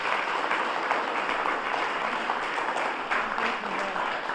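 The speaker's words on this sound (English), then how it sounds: "Another round of applause for these cadets right up here." An audience at a junior police academy graduation applauds the cadets, a thick, steady wash of clapping from many hands that holds at an even level throughout.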